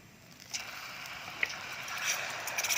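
A gas stove burner is turned on with a short mechanical click and ratcheting, followed by a faint steady hiss of the flame, close and quiet, with no talking.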